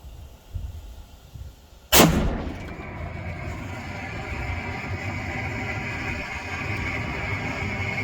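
A single loud rifle shot cracks out during outdoor target practice, sharp and close, followed by a lingering rumble of echo and ambient noise.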